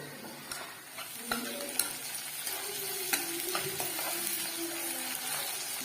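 Green chillies, ginger and curry leaves sauté in a pan for rava kichadi, a soft sizzle under scattered spoon clinks and stirring scrapes, close and fairly quiet, with no talking.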